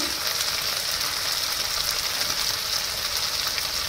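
A ginger and chili paste for a chickpea curry fries in a pan with a steady, even sizzle that stays close and constant throughout, with no pauses.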